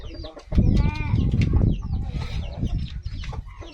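Chickens cluck and squawk close by in a lively, overlapping burst, with rustling and a flurry of movement around them in a rural outdoor setting, then quieter scattered clucks.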